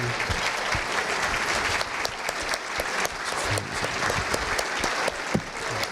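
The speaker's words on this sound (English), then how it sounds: "Can you all collectively stand so we can give you a big round of applause, please?" City workers receive a big round of applause from the crowd at a State of the City address in Hammond, dense continuous clapping filling the room throughout.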